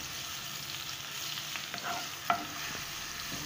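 Garlic sizzles in about three ladles of oil alongside already-fried eggplant, a steady soft crackle with a light stir partway through, close and moderately quiet with no talking.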